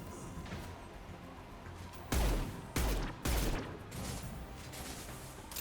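Heavy gunfire bursts in Mass Effect 2, three loud booming volleys mid-clip over a steady background din of battle noise.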